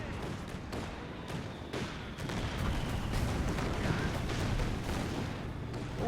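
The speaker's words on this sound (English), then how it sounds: "nice Panzerwerfer shot" Panzerwerfer rocket artillery firing in the World War II strategy game Company of Heroes 2, a dense sustained barrage of thuds and blasts rolling on for several seconds over battlefield din.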